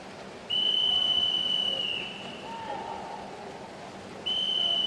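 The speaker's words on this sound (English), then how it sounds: "As our technical official gets ready to whistle her through for this final 50." A technical official blows a long, steady high whistle at a girls' short course swimming championship in Victoria, sounding loud for about a second and a half and then again at the end over a noisy pool hall.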